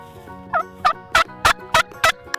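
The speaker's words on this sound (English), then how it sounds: "Turkeys have colorful feathers and make a gobbling sound." A turkey gobbles in six evenly spaced, close and clear bursts, with no talking.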